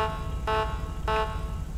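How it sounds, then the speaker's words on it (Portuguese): Two separate car horn honks sound in GTA 5 roleplay before a street race between a Corvette and a Fiat Punto, each a bright, steady blare about a fifth of a second long over a low engine hum. "Três buzinas, tipo isso aqui,"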